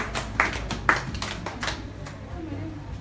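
Congregation at a Swahili Bible study clapping hands in praise, a few sharp claps rising over a murmur of voices and room noise in a church gathering.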